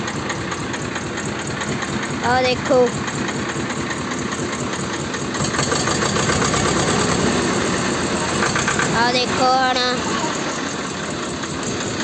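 A tractor engine idling with a steady low chugging rumble throughout, while someone talks briefly over it near the start and again toward the end.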